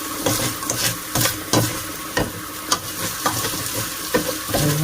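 Glutinous rice and fish sauce stirred in a pot for rice porridge, repeated loud scraping strokes over a constant sizzle, close by and with no talking.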